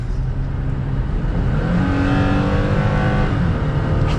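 A 2022 Toyota Tacoma TRD Sport pickup accelerates at speed, its engine droning steadily and loudly with a slowly rising pitch and constant road and wind noise underneath, no voices.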